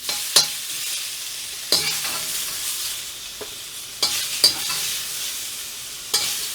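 Shrimp for fried rice sizzle steadily in a hot pan, broken by several loud scraping stirs and tosses at irregular intervals, close up with no talking.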